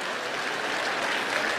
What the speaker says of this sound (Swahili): Pigia yeye makofi.